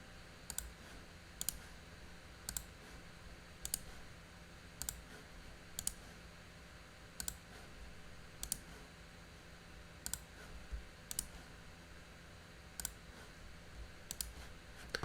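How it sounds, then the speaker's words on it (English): Computer mouse clicks while working in Adobe Animate, sharp isolated clicks at an irregular, unhurried pace, about a dozen over a quiet room hum with no talking. "Control click or the right click, either way is fine."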